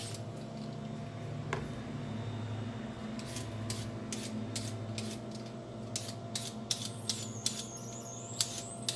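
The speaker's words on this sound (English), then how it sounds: "now I'm going to go ahead and get my carrots peeled real fast" Carrots being peeled for a Thai green papaya salad: a series of quick, crisp scraping strokes, close and fairly quiet, picking up pace toward the end over a low kitchen hum.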